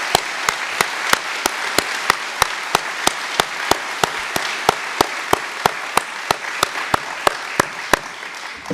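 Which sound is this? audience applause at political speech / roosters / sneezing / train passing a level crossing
audience applause at political speech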